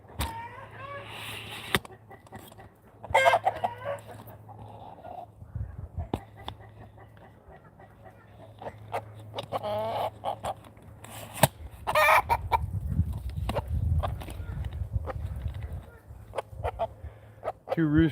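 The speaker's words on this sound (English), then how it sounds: "That little rooster's making a lot of noise." A rooster crows repeatedly while hens cluck on a small farm where two roosters and two hens are being moved. The birds are loud and close, with steady low hum and people talking over them.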